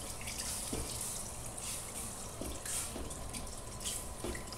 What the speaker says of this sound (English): it's time to add in our stock, which you're going to continue to stir while I do this